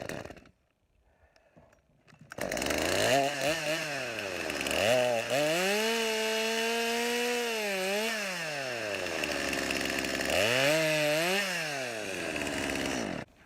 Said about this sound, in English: I have been fighting with this chainsaw.